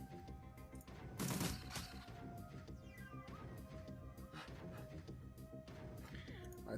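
Video game gunfire in Shadowrun Returns Dragonfall, a quick burst of shots around the one-second mark over a continuous music and effects bed, with smaller clicks and impacts scattered through the rest.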